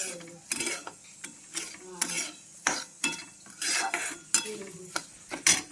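A spoon scraping and stirring a jaggery mixture roasting in a pan, in rhythmic repeated strokes with a soft sizzle between them and no talking.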